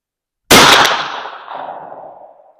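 An H&R rifled 32 gauge shotgun fires a 225-grain slug in a single loud, close blast that cuts in from silence and rings out with a long decaying echo.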